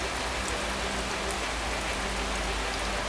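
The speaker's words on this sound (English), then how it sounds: "We are caught in the rain." Heavy rain pours down steadily around a farmer's hut in the Balinese countryside near cow pastures, a dense, loud, unbroken hiss of drops drumming on nearby surfaces with no voices.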